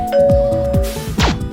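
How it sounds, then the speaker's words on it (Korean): A doorbell rings with repeated two-tone ding-dong chimes, loud and close, with no other sounds. "초인종 소리가 울려서 현관문을 열어보니"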